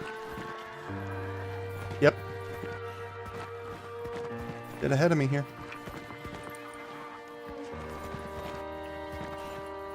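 In the video game Hunt: Showdown, a horse's hooves clop and it briefly whinnies in the middle distance, near a barn, while people talk over a quiet, droning background.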